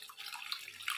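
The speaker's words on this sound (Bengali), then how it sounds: "জল দিলাম" Water poured into a cooking pan while making a Bengali hilsa and eggplant curry with cashew and mustard, a brief steady splashing pour close by with no talking.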